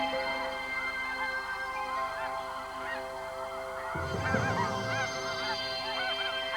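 A flock of geese honks repeatedly in flight, overlapping calls layered over a steady hum, growing busier and denser partway through.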